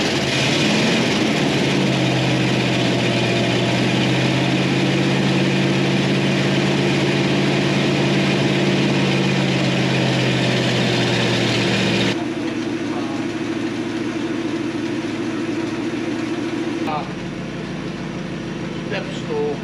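A 283 V8 in a barn-find survivor 1960 Chevy Impala hardtop runs on a held-closed choke, a loud, steady low rumble that shifts to a rougher, quieter idle partway through.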